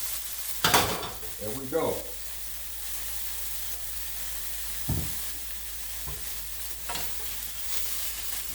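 Stir-fry sizzling steadily in a hot pan as sweet and sour soy sauce is splashed in, with a few clanks from the utensil; someone speaks briefly near the start.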